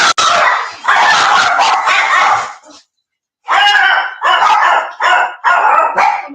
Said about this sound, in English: I'm sorry if the dogs are loud,